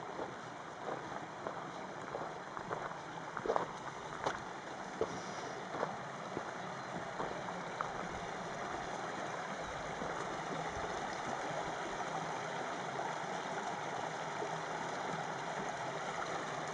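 Creek water runs steadily across a normally dry hiking trail near Cave Creek, a soft, continuous rushing close by, with light wind on the microphone and a few faint footstep-like knocks early on.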